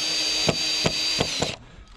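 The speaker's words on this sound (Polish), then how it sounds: "Też zakręcę, żebyśmy mieli łatwiej robić." A power drill drives a screw into a wooden formwork board during perimeter edge-board shuttering, a steady whir through four short clunks of the bit seating before the motor stops.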